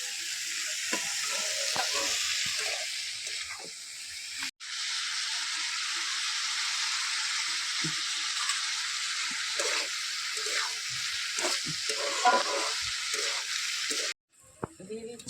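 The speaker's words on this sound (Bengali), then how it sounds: "ভালো করে ভেজে নেব।" Chow mein sizzles and fries in a pan on a rooftop, a steady loud hiss with scraping stir strokes throughout and a brief break near the end, and voices talking faintly under it.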